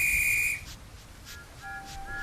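Steam engine whistle from a Roblox train game set on Sodor, sounding a strong steady blast for about half a second, followed by fainter, thinner whistle tones later on.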